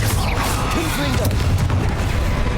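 Fire blast spells going off in the Hogwarts Legacy video game, booming bursts layered over a dense battle din with music and effects throughout.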